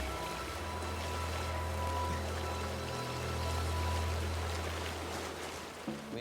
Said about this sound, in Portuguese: A gente achou a cachoeira, mas não era grande coisa.